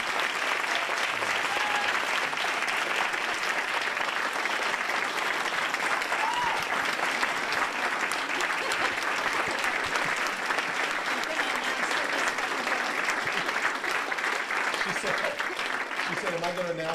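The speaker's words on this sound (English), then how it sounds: "a round of applause for Alice Wyatt." An audience at a talk featuring Alice Waters in Sacramento claps steadily and densely for the whole stretch, sustained applause with a faint voice or two mixed in.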